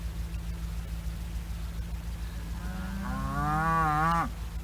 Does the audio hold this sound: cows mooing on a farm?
yes